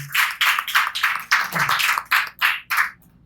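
Church congregation clapping in praise to the Lord, several rhythmic bursts of claps close together, loud and without talk.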